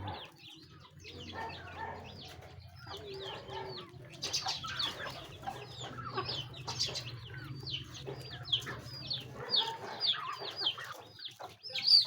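A flock of native chickens clucks and chatters continuously at close range, overlapping calls rising busier and louder toward the end, with a faint low hum underneath and no talking.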